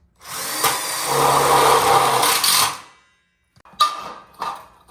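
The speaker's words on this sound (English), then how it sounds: "We're screwing it together just like we did the 4-foot backsplash sections." A cordless power drill drives screws into a backsplash frame track for an outdoor kitchen, giving a steady whirring buzz of about two and a half seconds, then a pause and a couple of short clanks of metal parts nearby.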